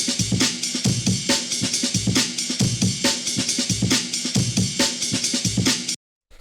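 The classic jungle drum break: fast, busy, syncopated breakbeat of punchy kicks, cracking snares and bright ride and hi-hat, played loud and dense before cutting off abruptly into silence near the end.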